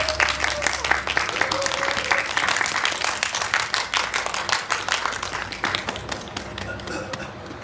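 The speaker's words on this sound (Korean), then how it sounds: "박수 부탁드립니다." A cinema audience at a film talk event claps for the cast taking the stage, a loud, sustained round of applause with crisp individual claps throughout, tapering slightly toward the end.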